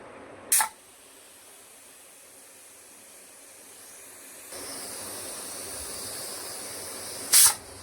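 A pressure cooker holding tomato chana dal curry hisses steadily on medium flame, broken by two short, sharp bursts of escaping steam near the start and end, with no talking.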